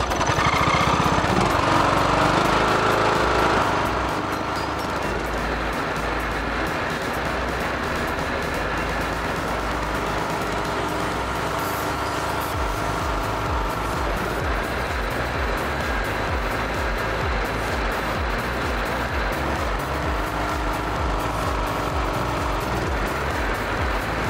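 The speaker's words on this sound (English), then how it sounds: "there you can see the how the governor system works on a small gas engine" A small gas engine idles steadily under its governor system, a loud, continuous mechanical drone with rhythmic chugging that holds nearly constant throughout, heard alone without speech.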